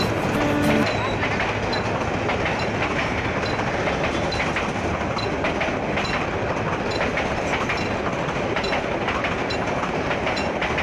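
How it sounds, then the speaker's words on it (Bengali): A train pulls into a station in the rain, its wheels clattering continuously and loudly over the rails. A faint tonal note sounds at the very start. "ট্রেন ঢুকে পড়ল স্টেশনে চাকার শব্দ হুইসেলের সুর আর বৃষ্টির টুপটাপ"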